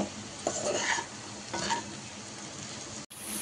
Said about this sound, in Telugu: ఇప్పుడు బాగా దీన్ని మిక్స్ చేసేసుకోవాలి.